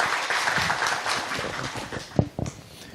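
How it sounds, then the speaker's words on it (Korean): A conference audience at a blockchain presentation applauds to welcome a speaker, a broad clapping wash that fades out, followed by a few close knocks and handling sounds. "우리 백 대표님 큰 박수로 환영 부탁합니다."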